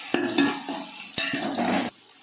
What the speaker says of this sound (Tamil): இப்போ நம்ம அது எல்லாத்தையும் நல்லா கிளறி விடலாம்